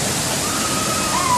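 Steady, dense roar of the Dudhsagar waterfall heard from downstream below the bridge, a continuous loud rush of falling water with no break.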